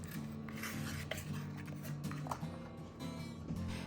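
A spatula scrapes and smooths melted chocolate chips across a layer of homemade English toffee, making soft rubbing, rasping strokes, close and quiet over a low steady hum.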